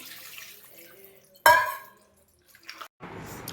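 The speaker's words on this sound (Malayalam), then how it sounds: "അരക്കപ്പ് വെള്ളം ഒഴിച്ച് നമുക്കത് അടപ്പത്ത് വയ്ക്കാം" About half a cup of water is poured into a cooking pot in a home kitchen: a short splashing gush that quickly fades, a pause, then a second softer trickle near the end, with no talking.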